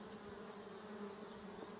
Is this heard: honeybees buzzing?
yes